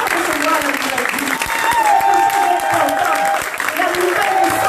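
A church congregation claps at a baptism announcement, dense applause spread across a large room that continues under speech and crowd noise.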